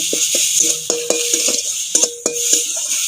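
A utensil stirs pointed gourd mash with black mustard paste in a pan, producing a loose series of close, clear metallic taps and scrapes against the pan, with no talk.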